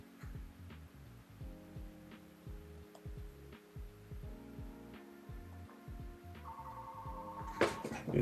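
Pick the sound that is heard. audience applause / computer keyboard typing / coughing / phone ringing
phone ringing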